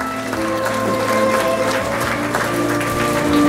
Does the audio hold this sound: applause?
yes